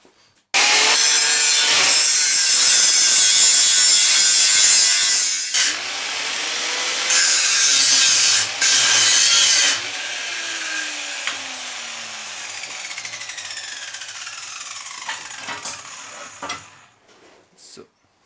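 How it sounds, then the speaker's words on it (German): An angle grinder bevels a roughly 30-degree weld groove into the edges of a steel stair stringer, giving a loud, continuous abrasive grinding roar with a shifting whine that eases off near the end. "Jetzt nehme ich einen Winkelschleifer und schleife auf beiden Seiten meine Schweißfuge an das Werkstück an."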